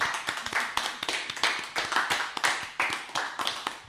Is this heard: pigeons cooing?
no